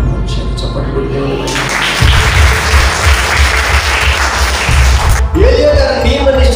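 A church congregation bursts into applause for God, a dense crowd of clapping swelling in after a brief pause and lasting several seconds before stopping, with faint voices around it.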